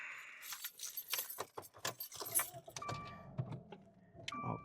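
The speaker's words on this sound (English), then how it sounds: "Get my keys." A bunch of keys jingles and clinks in quick, uneven bursts close by while someone settles into a car, with a few faint knocks and shuffles between the rattles.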